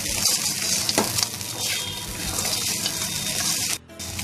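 Chire polao, flattened-rice pilaf with fried peanuts, stirred in a hot pan: a loud, continuous sizzle with scraping turns of the spoon, dropping away abruptly near the end.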